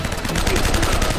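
Rapid bursts of automatic gunfire from a firefight in the video game Uncharted: Drake's Fortune Remastered, loud, close, dense overlapping shots packed into about a second.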